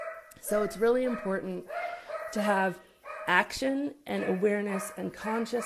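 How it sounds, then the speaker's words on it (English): Dogs bark and yip repeatedly in a nearby room, sharp bursts recurring throughout while someone talks steadily over them. "I apologize about the dogs"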